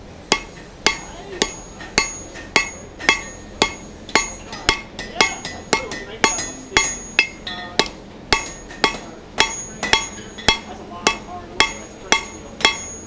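Hot steel is hammered on an anvil while a forged leaf is drawn out, with sharp ringing blows landing close and steady, about two per second, as a long unbroken series with no talking.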